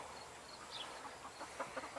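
Soft, scattered clucking from several chickens, low and a little distant, with brief bursts rising over a steady background hiss.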